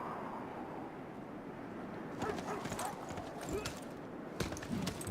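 Hooves of a horse unit clip-clop in the Civilization 6 strategy game, a soft, steady patter heard fairly faint beneath game ambience, growing a bit busier in the second half.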